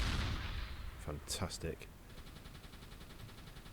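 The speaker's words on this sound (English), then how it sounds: "So we are getting on the flak cannon." Flak cannon aboard a U-boat in the submarine game Uboat fires a short burst of loud, booming shots, with a spoken exclamation over the start and steady rumbling ambience afterward.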